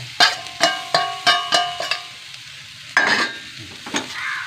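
A spoon stirs prawn roast curry with fried prawns in a pan, making about six steady, rhythmic scraping strokes over a soft sizzle, then a couple more irregular stirs, with no talking.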